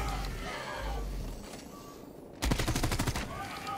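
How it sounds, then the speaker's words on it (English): Gunshots in a PvPvE shooter video game, a rapid burst of shots near the end of a short stretch of busy game noise. "Someone is shooting at me!"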